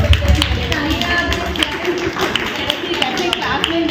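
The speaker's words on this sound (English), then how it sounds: "She needs a special applause." A room full of guests at a club collar ceremony applauds the club editor, giving dense steady clapping that runs throughout with voices talking over it.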